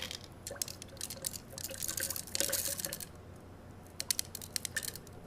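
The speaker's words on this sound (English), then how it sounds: "And now I'm going to pour in glass beads until I have 7 mils of that as well." Small glass beads pour into a graduated cylinder in a lab setting, a quiet, close run of tiny clicks and rattles with a denser burst in the middle and scattered ticks toward the end.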